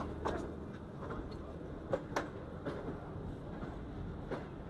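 A train approaching Lahore railway station on an overnight run from Karachi, with a steady low rumble and a few sharp wheel clicks and clanks over the rails, heard from aboard at moderate distance under faint background voices.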